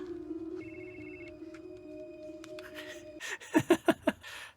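A telephone rings in a scene from the Angel TV series. Faint sustained tones come first, then four quick, rhythmic ring bursts sound close by.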